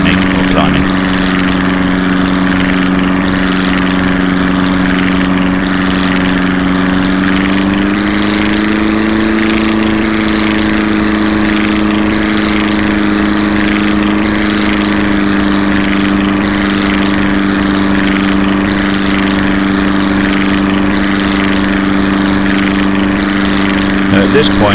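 Propeller aircraft engine in a flight combat video game, a loud steady droning hum with stable pitch that bends briefly upward partway through as the plane rolls, continuous for the whole stretch.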